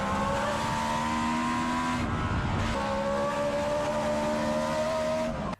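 A small-capacity BRM V16 racing car engine howling at high revs, a sustained, steady multi-harmonic scream that drops briefly mid-run before climbing again, loud and continuous, then cutting off abruptly.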